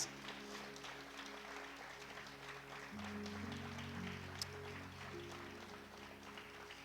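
Church congregation applauding during a sermon, a faint, steady patter of many hands under a sustained low musical drone that shifts pitch partway through.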